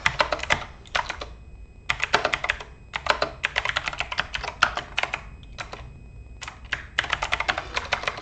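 Fingers type on a computer keyboard in quick bursts of crisp clicking keystrokes, separated by short pauses, close and clear with no talking.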